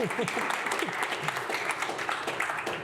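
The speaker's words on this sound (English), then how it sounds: "Round of applause." Audience at a climate resilience panel event claps in a continuous, full wash of applause, moderately loud and even throughout, with a faint murmur of voices beneath.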